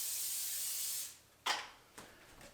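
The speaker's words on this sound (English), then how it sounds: "I just take a little Pam spray" Pam cooking spray hisses steadily into a heating pan for about a second, then stops, followed by two short, softer bursts of spray.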